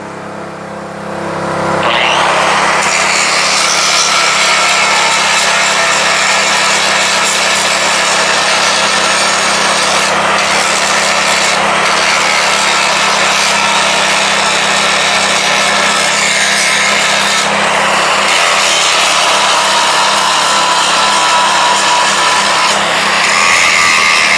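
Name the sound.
angle grinder disc cleaning oxy-cut area on axle shaft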